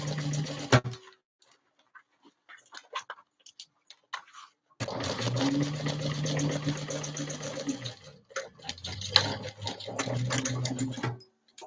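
A sewing machine stitches down a folded fabric edge on a tote bag in bursts, quiet pauses between runs of rapid, close mechanical whirring.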